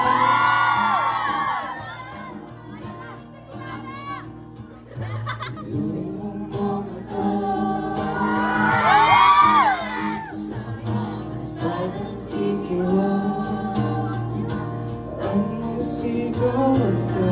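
A fan meet crowd cheers, whoops and shouts, with high squealing voices rising in bursts and laughter over music playing in a large venue.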